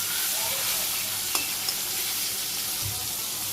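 Fish pieces frying in hot oil tempered with cumin seeds in a home village kitchen, a steady broadband sizzle with a few brief clinks and a soft low thump near the end, no one speaking.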